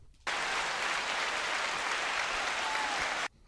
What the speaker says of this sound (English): I hit the applause sound button